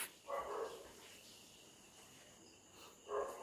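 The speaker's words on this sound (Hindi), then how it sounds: "तो देखा गया है कुत्ता भूख रहा है" A dog barks twice, a short bark near the start and another near the end, moderately loud and fairly close, with a faint insect-like chirping hum in the background and no talk.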